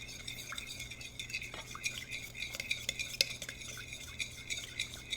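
Pasta stirred together with sazon seasoning in a bowl or pot, a quick run of close clicks and scrapes from a utensil against the dish over a faint steady hum, with no voices.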